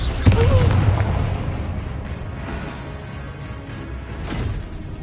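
The Confringo spell in Hogwarts Legacy blasts with a sudden heavy boom, then a rumbling decay that fades over several seconds. A voice speaks briefly at the start.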